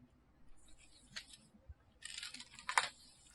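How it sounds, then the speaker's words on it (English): Crisp papery crackles and rustles in two bursts as protective paper is peeled off an Apple iPad Air 5, a brief one then a longer, louder tearing rustle near the end, close by with no talking. "I really like the sound of peeling off the paper"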